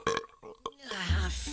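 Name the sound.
troll burping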